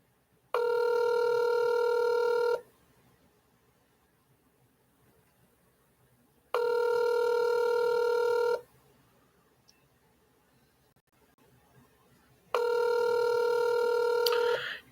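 A telephone ringback tone repeats three times in even two-second bursts with pauses between, a call going unanswered, loud and clear with no talking.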